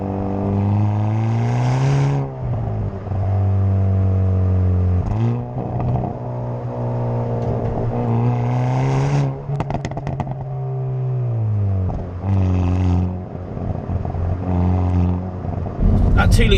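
A 2021 Hyundai i30N hot hatch with a 2-litre turbocharged engine revs hard through repeated gear pulls heard from inside the cabin, with the pitch rising, then dropping at each shift, loud and close.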